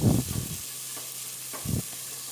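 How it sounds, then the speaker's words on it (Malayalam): Sliced onions for a spicy beef curry are stirred in a hot pan, with two short scraping bursts of spoon against metal over a faint steady sizzle, close and fairly quiet. "ഒനിയൻ അതിലേക്ക് ഇട്ട് കൊടുക്കാം. അതൊന്ന് ഇളക്കി കൊടുക്കാം."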